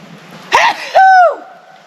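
A single sharp, forceful sneeze, a breathy burst followed by a loud voiced explosion, close by with quiet background around it.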